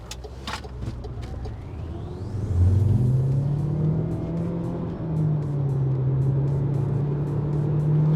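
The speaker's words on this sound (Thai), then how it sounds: "วันนี้เราจะลอง0ถึง100 กัน ในโหมด Super Sport" An MG HS PHEV in Super Sport mode launches from a standstill toward 100 km/h, its engine and drivetrain swelling into a loud, sustained rising whir and rumble after a quiet start, heard alone without talk.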